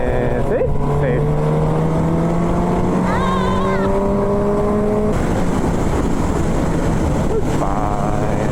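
A motorcycle engine on the road winding down as the throttle is released, its falling tone droning under steady wind roar, with faint rider chatter.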